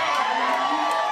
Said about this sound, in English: that was like the weakest applause you guys have had all night